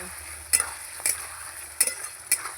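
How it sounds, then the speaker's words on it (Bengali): A spatula stir-fries spices with salt in a hot pan while cooking cabbage with fish head, four crisp scraping strokes at roughly half-second intervals over a faint background sizzle. "লবণ এবার আর একটু ভালো করে কষিয়ে নেব"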